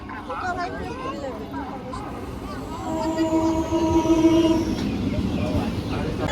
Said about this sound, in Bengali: আমাদের গাড়ি ঢুকছে এখন